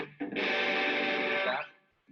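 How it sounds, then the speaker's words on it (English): Electric guitar with heavy distortion playing a part from a song, a loud sustained chord that rings for over a second after a short pick attack, then cuts off into quiet. "It sounds so good with the distortion"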